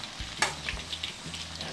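Small spiced chicken pieces fry in hot oil in a pan, a steady soft sizzle under a few clattering stirs of a utensil against the pan, close and alone with no talking.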